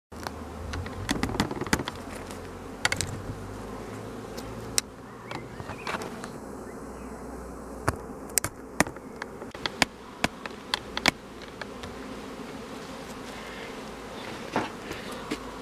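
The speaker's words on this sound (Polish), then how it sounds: "Tak się prezentuje pszczoła skelner w konfrontacji z pszczołą" Carniolan and Caucasian honey bees buzz steadily at the hive, a continuous close drone broken by scattered sharp clicks and taps.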